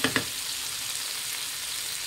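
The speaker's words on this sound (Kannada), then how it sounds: "ಇದು ಸಾಫ್ಟ್ ಆಗೋವರೆಗೂ ಫ್ರೈ ಮಾಡಬೇಕಾಗತ್ತೆ ಎಣ್ಣೆಯಲ್ಲಿ" Tomatoes and cumin seeds fry in hot oil with a steady, close sizzle, opened by two quick clinks of a utensil against the pan.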